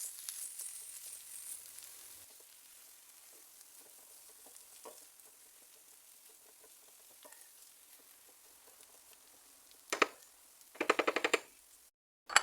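Filling of a Turkish poğaça pastry with parsley sizzling faintly in a pan, a steady soft crackle with a few louder stirring clatters near the end.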